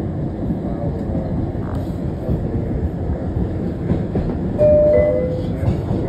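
An MBTA Red Line subway train runs with a continuous loud rumble and rattle of the cars, broken by a few brief high metallic squeals from the wheels.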